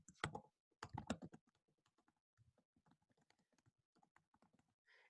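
Typing on a computer keyboard while writing out a paper draft: quiet, close keystrokes in irregular bursts, a few louder clustered taps at the start, then lighter scattered clicks with short pauses.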